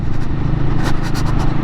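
A Royal Enfield Guerrilla 450 motorcycle with a torquey engine, heard while riding as a loud, steady engine drone with wind rush, continuous and close throughout.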